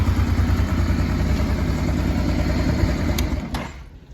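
A 1998 Honda NT650V Deauville motorcycle idles with a steady, loud, low throbbing rumble up close, then the engine cuts off near the end.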